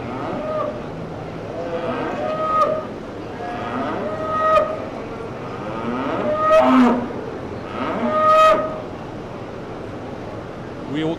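Dairy cattle in a county fair livestock show ring at the 2024 Dodge County Fair give four drawn-out moos, spaced a couple of seconds apart, over a steady windy, crowded background.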